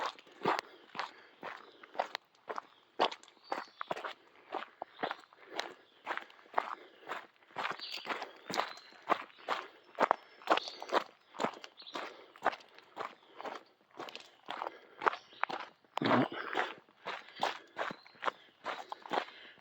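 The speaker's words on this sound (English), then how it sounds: "I'm not going to bore you listening to my footsteps on the gravel" Steady footsteps crunching along a gravel road serving as a trail at Hanging Rock State Park, North Carolina, with an even walking rhythm of close, distinct steps throughout and no talking.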